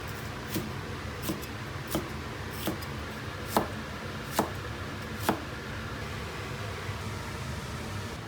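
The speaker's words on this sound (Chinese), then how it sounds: "再切点洋葱" Knife chopping onion on a board in a home kitchen, seven or eight separate crisp cuts spaced about a second apart over a low steady background hum.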